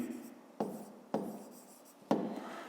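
A pen writing on paper makes soft scratching strokes in three short separate bursts, close and fairly quiet, with no talking over it.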